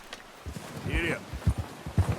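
A horse in Red Dead Redemption 2 sets off into a gallop, heavy rhythmic hoof thuds on dirt coming up close and loud, with a brief whinny-like tone in between.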